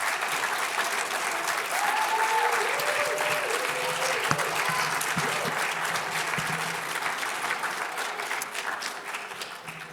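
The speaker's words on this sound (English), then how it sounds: "if everyone could please give a big warm round of applause to our 2023" A seated audience claps for 2023 graduates in an auditorium at a white coat ceremony. The applause is sustained and moderately loud, thick and even at first, then slowly thinning.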